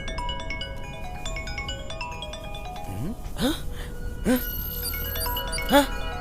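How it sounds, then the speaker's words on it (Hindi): A phone message notification chime rings out in a series of bright melodic tones, followed by a few quick rising electronic blips, moderately loud amid quiet background. "ये देख, मैसेज की घंटी, आ गया नंबर।"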